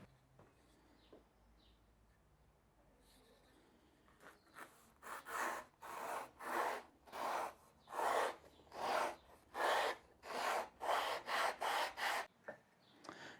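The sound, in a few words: sanding wood with a grit sanding stick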